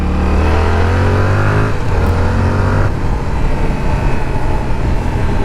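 A motorcycle engine runs loud and steady up close, its low drone shifting pitch as it revs, then settling into a rougher, broadband roar.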